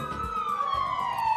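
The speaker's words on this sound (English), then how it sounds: "Oh, we can hear sirens." Police sirens from the video game Ace Attorney Dual Destinies wail continuously with a steady, gliding tone, fairly loud and unbroken, with no talk over them.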